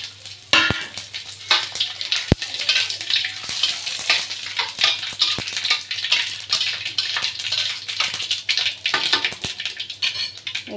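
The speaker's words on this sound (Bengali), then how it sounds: "দুটো শুকনো লঙ্কা, গোটা জিরে, আর এই সর্ষে অল্প একটু, আর একটা তেজপাতা এই সর্ষের তেলের মধ্যে দিয়ে দেবো" Dried chilies, whole cumin, mustard seeds and a bay leaf crackle in mustard oil, with irregular spitting pops and sharp clinks of a utensil against the pot throughout.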